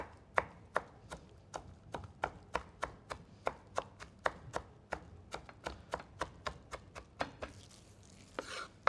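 Peppers finely diced with a knife on a board for Anatolian Mengen soup, a steady run of about two dozen sharp, close chops in quick rhythm, with a brief scraping shuffle near the end and no talk.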